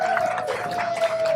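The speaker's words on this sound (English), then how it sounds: "a big round of applause" Enthusiastic applause from an audience at a North Cascades gathering, a steady wash of many hands clapping with a sustained whistle running through it, close and continuous for the whole moment.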